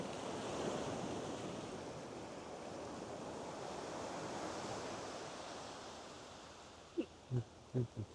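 Ocean surf rolls in steady, washing waves at Redondo Beach, a broad continuous roar with some wind, followed near the end by a few short knocks close by.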